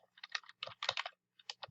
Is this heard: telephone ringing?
no